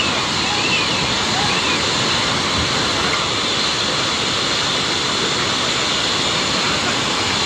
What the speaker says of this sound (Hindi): आप सुन रहे हैं इस वक्त पानी का शोर है